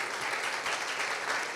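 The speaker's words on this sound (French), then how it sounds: "Je vous demande de l'applaudir." An audience at a French corporate sports pitch event claps in a brief, steady wash of applause, fairly close and without talk.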